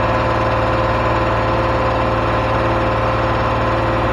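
A freshly rebuilt Corvair fitted with a 4.3 V6 runs steadily on its first start, a constant loud engine drone with noisy cooling fans whirring over it and no voices.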